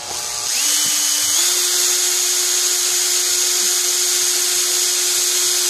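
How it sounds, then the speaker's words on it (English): A new drill bit bores an air hole into a metal Kayfun atomizer, a steady high electric whine that starts after a brief spin-up and holds constant, with faint clicks underneath. "Especially if you're using a new drill bit like this one."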